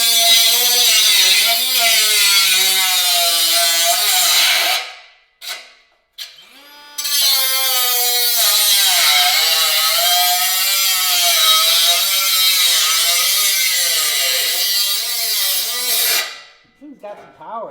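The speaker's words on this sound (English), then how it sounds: "I'm going to cut this whole bumper apart." A RIDGID sub-compact 18V power tool cuts through a car bumper, a loud close buzzing saw whine with wavering pitch that runs for long stretches, broken by short pauses as cutting stops and restarts.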